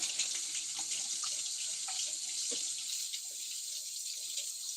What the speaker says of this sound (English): All right, get my brush wet.